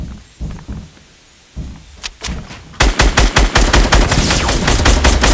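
Rapid bursts of video game gunfire during a tense shootout, starting with a few scattered shots and then turning into a loud, sustained rattle of fast repeated automatic fire.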